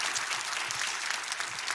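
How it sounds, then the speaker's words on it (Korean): A church-style audience at a rally breaks into brisk, sustained applause, a dense wash of clapping that stays fairly even and moderately distant for a short stretch. "박수하겠습니다."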